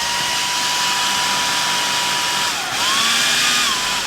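Continuous high whine of a blender whizzing biscuit crumbs with melted butter for a coconut rough tart crust, close and loud, its pitch dipping briefly midway before recovering.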